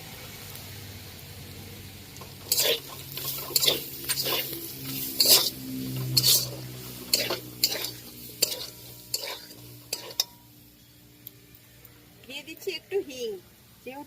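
Ground spice paste with turmeric is stir-fried in a pan for a pointed gourd dish, sharp spatula scrapes and clinks in bursts over light sizzling, while someone speaks throughout.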